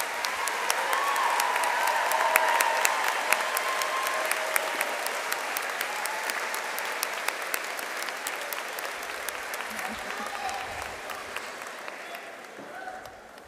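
Audience applause at a high school commencement ceremony for the class of 2022, a dense, steady clapping from a large crowd lasting throughout and tapering slightly toward the end.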